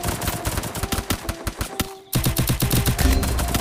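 Rapid automatic gunfire in the Free Fire mobile game during a Class Squad match on the Kalahari map, a loud, steady stream of close shots that pauses briefly and then resumes in a denser burst.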